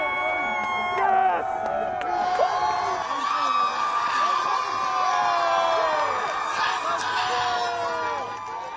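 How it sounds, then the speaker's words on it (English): Demonstrators in Minneapolis streets cheer, whoop and shout in a loud, dense crowd, voices rising and overlapping continuously with excited yells. "Demonstrators have been cheering, chanting, dancing."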